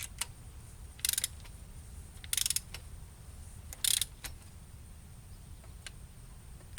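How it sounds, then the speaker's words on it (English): Torque wrench set to 15 foot-pounds tightening ARP head bolts on a Honda D16Y8 engine during a head gasket install: three short, crisp ratcheting clicks spaced about a second apart, with faint ticks over a quiet background hum. "Got the wrench set for 15 foot-pounds, and let's get it in."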